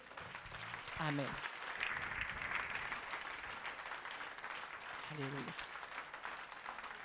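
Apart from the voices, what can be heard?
church congregation applauding the Lord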